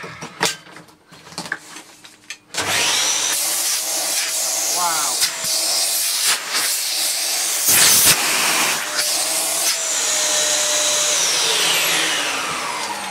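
A refurbished Dyson Cinetic DC54 vacuum cleaner starts up after a brief lead-in and runs with a loud, steady whooshing roar, close by. Its pitch wavers slightly as it works, and someone speaks briefly over it.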